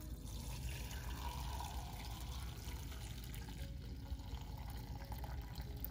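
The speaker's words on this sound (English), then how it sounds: "To strain it, we're just gonna pick it up and then run it through the strainer." Hot water dyed with leaves is poured through a strainer into containers, making a steady broad splashing and trickling flow that runs for the whole stretch.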